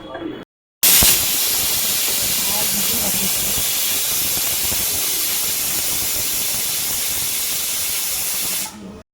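A pressure cooker hisses steadily while cooking Karnataka-style mutton curry, a loud continuous steam release that starts abruptly after a brief silence and holds for about eight seconds before cutting off.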